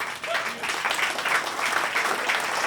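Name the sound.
audience applause at live blues concert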